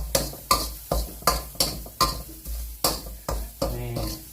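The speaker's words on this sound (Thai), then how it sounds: "แม่คั่วให้มันแห้งให้มันหอมครับ" Ingredients are stir-fried in a pan until dry and fragrant, a spatula scraping and stirring in a steady rhythm of about nine close strokes over a light sizzle.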